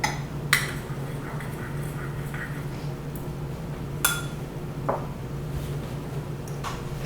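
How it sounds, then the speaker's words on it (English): A spoon stirs hot sauce into a bowl of dipping sauce for Vietnamese crispy crepes, giving a few light, scattered clinks against the bowl over a quiet, steady background hum. "Stir it around."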